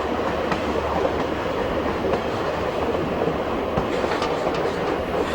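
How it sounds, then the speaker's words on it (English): The White Pass & Yukon narrow-gauge railway train runs through the Skagway River Valley in Alaska with a steady loud rumble, rhythmic clickety-clack of wheels over rail joints and faint squeals, close and continuous without speech. "the sound of the trains could once again be heard through the Skagway River Valley"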